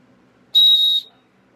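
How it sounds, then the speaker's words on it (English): A knife's fire starter blown as a whistle, giving one short, loud, shrill tone lasting about half a second in an otherwise quiet setting. "The fire starter doubles as a whistle."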